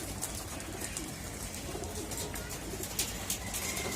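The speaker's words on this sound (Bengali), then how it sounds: "কবুতরগুলো বাইরে ছেড়ে দিলাম সবগুলা কবুতর উড়ে গেছে" Pigeons released outdoors fill the air with a steady wash of cooing and fluttering bird sounds over constant background noise, with a few sharper flutters near the end.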